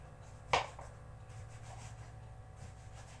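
A knife thinly slicing eggplant gives one crisp, quiet cut against a board early on, followed by faint kitchen room noise.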